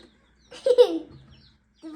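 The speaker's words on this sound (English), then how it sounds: "So we got some replacement chicks because our current laying hens are getting a little bit older." Young chicks kept as replacement layers on a small farm give one short, close, high-pitched chirp-like call, followed by quiet.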